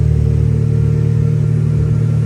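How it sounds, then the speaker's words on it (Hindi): A car approaches near Khanpur Dam, its engine a steady loud low hum with a constant rumble throughout. "वो आ रही है गाड़ी।"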